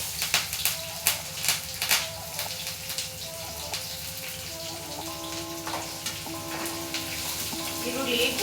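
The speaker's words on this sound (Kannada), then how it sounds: "ಈರುಳ್ಳಿ ಗೋಲ್ಡನ್ ಬ್ರೌನ್ ಬರಬೇಕು, ಅಲ್ಲಿವರೆಗೂ ಫ್ರೈ ಮಾಡ್ಕೋಬೇಕು" Onions frying with cumin in a pan for dal khichdi, a steady close sizzle and crackle with a few spoon scrapes early on, growing slightly louder toward the end.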